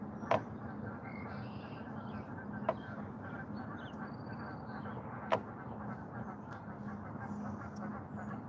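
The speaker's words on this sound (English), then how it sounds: "Got a lot of geese around." Geese by the Mississippi River call in the distance with a few brief, isolated honks over a steady outdoor background.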